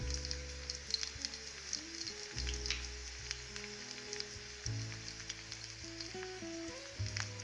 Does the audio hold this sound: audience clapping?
no